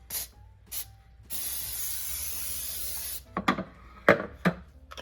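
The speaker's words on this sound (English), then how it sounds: "I'm going to give this just a light coating of spray" Cooking spray from a can misted onto a pan for no-bake peanut butter cups: two short hisses, then one long steady spray of about two seconds, followed by a few knocks and scrapes.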